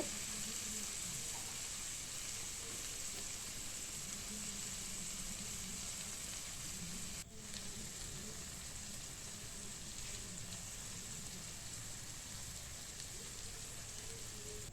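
Vegetables sizzle and crackle steadily in a hot pan, close up, with a continuous hiss that briefly dips partway through.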